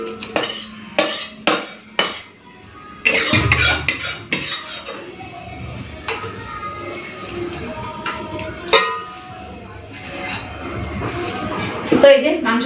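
Chicken pieces for homemade biryani dropped into a cooking pot with clanking metal utensil and pot knocks, followed by stirring scrapes, while a person talks throughout.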